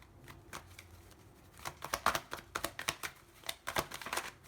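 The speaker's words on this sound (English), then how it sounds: "Do you want me to shuffle again?" Tarot cards being shuffled by hand, a quick run of crisp riffling flicks and slaps, close and fairly quiet, with no talking.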